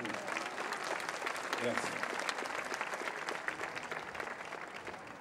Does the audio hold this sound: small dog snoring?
no